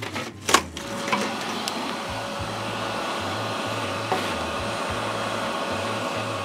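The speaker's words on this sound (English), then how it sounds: "Let's grab my hoover quickly." A Hoover vacuum cleaner runs steadily in a garage, a continuous broadband motor drone that stays loud and even throughout, opening with a few sharp knocks and clatters as it is handled.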